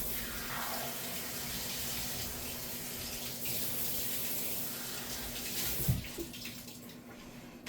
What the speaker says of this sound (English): I'm gonna give this a quick little rinse